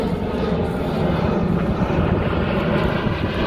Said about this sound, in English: Look at the airplane taking off right there.